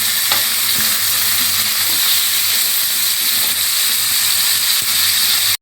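Ayala fish frying in very hot oil in a pan, a loud, steady sizzle with constant hiss and crackle running unbroken throughout, no voices.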